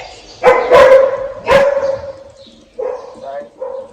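A farm dog near a horse barn barks loudly and close by in a few sharp bursts, with a whimper between them.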